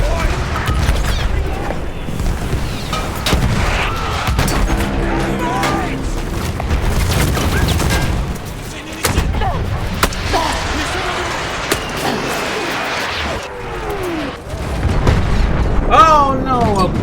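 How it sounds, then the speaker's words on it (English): A video game explosion goes off at close range amid a busy stream of game audio, with loud booming bursts and rumble and players' talk running alongside. "It explodes right in front of me."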